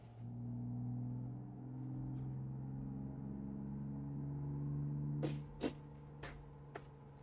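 A modded car driving in Euro Truck Simulator, its steady low engine rumble and drone humming throughout, with a few sharp clicks and knocks near the end.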